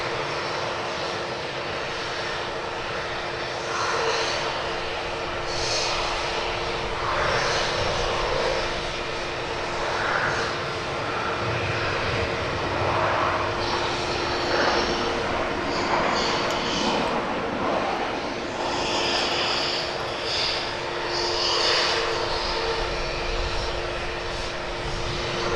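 Lufthansa airliner engines roaring steadily at Edinburgh Airport, a loud sustained rumble and whine that swells and eases over the whole stretch, with no talk over it.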